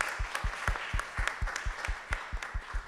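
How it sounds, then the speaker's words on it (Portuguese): An audience claps in a regular, fairly sparse rhythm, with distinct individual claps sounding close and clear, as at a film talk with two filmmakers. "Mais palmas, gente."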